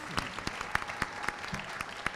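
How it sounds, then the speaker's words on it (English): An audience at a business pitch competition applauds, a thin, fairly distant patter of scattered claps with a few sharper individual hand slaps standing out. "Let's give him one more round of applause."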